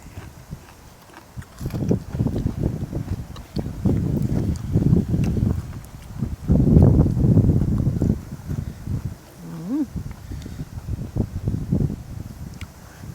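Wind gusting outdoors in hot sun while spicy snail salad is pounded, heard as broadband rushing microphone buffeting that swells and fades in strong waves across the whole stretch, with faint rustling mixed in.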